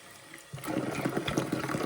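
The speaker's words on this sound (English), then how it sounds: "Let's put some hot water in." Hot water gushes and splashes into a container, starting abruptly after a brief quiet moment and running steadily with bubbling, filling sounds.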